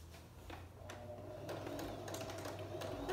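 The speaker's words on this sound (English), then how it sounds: "And so let's start sewing." A sewing machine stitches a scarf seam slowly, with a steady, quiet mechanical whir and light rhythmic clatter that builds a little as the stitching goes on, close up with no talking.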